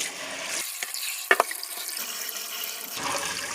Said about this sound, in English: Again, I am just rinsing it to get any loose materials off, foreign materials.